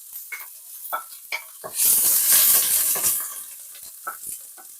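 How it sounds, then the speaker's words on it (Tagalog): Chopped onion and garlic hit hot olive oil in a pan with a loud burst of sizzling that swells and then fades, set between sharp clicks and scrapes of stirring before and after. "Okay na yung olive oil natin. Maggisa na tayo. Kunain ko na yung onion saka garlic."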